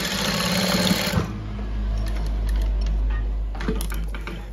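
Sewing machine back-stitching to lock a seam on a child's brocade sleeve: a fast, loud, close mechanical chatter for about a second, then a low hum with a few light clicks.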